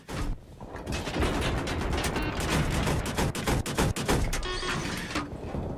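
Dense automatic gunfire in Battlefield 3 on the Grand Bazaar map. Loud, rapid bursts roll on nearly continuously with short gaps and mechanical clatter mixed in.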